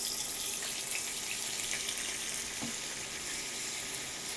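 Washed chicken pieces fry in a hot pan with a steady, bright sizzle that hisses continuously and close up, with a faint scrape as the pieces are turned.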